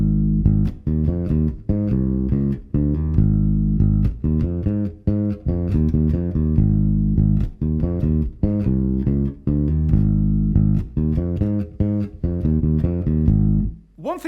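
A funky riff on an electric guitar, two bars played together and repeated, with punchy, rhythmic, closely spaced notes sounding loud and up close, ending with a brief sliding note.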